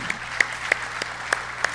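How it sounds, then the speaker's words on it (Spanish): An audience claps at a Spanish-language church conference, heard as a few sharp, spaced claps over a low steady background hum. "¿Por qué no le das un aplauso al Señor por eso?"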